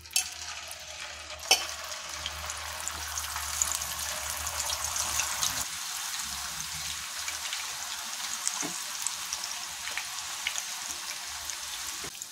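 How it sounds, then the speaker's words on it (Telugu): Homemade banana chips fry in hot oil over a medium flame, a steady soft crackle and sizzle with a few sharp clinks and stirring scrapes, no talk. "ఇప్పుడు ఇవి వేసేసుకుందాం మన చిప్స్."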